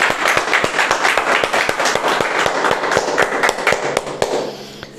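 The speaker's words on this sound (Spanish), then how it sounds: "Démosle un aplauso fuerte a nuestro Señor." A church congregation applauding loudly and close, sharp individual claps standing out in a dense rhythmic burst that thins near the end.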